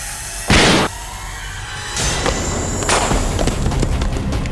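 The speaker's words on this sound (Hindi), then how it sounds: "ये गोली चलने की आवाज है" A single sharp gunshot cracks out loudly, followed by a couple of fainter bursts against a steady hiss of background noise.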